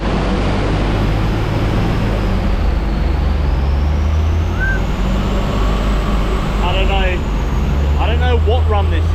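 Turbocharged Ford AU Falcon engine running on a dyno, a loud, steady droning roar with a low hum underneath, and brief voices near the end.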